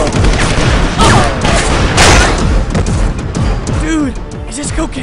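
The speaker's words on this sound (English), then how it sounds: "Who are we shooting at?" Heavy gunfire in a shootout, dense overlapping bursts and booms at close range, loud throughout, with a voice shouting over the firing.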